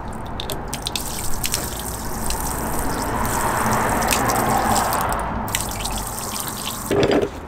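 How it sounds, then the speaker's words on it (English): Water drains and trickles steadily out of a van floor through a removed plug in a continuous gurgling rush, with occasional drips and a brief metallic clunk near the end. "as soon as I take this plug out, it's all going to be able to drain out"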